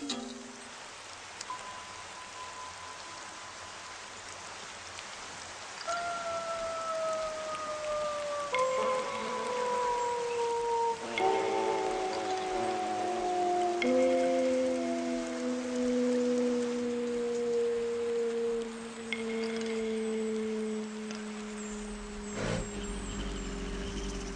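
Rain falls steadily in a garden, a constant soft hiss of drops on surfaces with faint distant tones and hums in the background, no voices.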